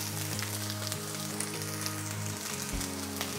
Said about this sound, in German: Jetzt den Speck dazu.